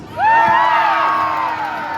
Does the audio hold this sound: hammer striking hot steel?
no